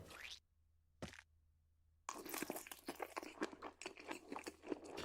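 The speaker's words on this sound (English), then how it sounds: "I don't know about these chewing noises." Crunchy, vigorous chewing from a stop-motion food piece, starting with a couple of brief isolated bites and then running as a dense, continuous stream of close, wet crunches and mouth noises.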